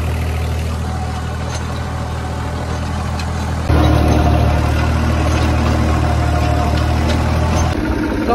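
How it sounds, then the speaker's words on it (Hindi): A tractor engine runs steadily while pulling a rotavator at full depth through dry field soil, a continuous low droning rumble that grows louder and rougher about halfway through, with no voices. "अपन ने क्लच छोड़ी, मतलब लगभग 100 से 150 RPM ड्रॉप कर रहा है अपना ट्रैक्टर"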